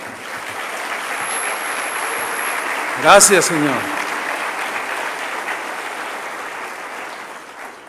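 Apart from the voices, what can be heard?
applause in church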